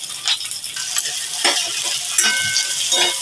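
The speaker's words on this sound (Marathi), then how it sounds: "आपल्याला कांदा जास्त लाल करायचा नाही, थोडासा नरम करून घ्यायचा तेलावर" Large onion pieces sizzling in hot oil for matar paneer, with a spoon stirring and scraping the pan in irregular strokes over a steady fry.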